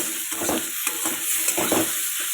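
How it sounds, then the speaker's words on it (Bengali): Water hits a pan of already fried fish for a spicy fish curry and crackles into a close, steady sizzle, with brief bursts of stirring and bubbling throughout. "এটার মধ্যে জল দিয়ে দেবো"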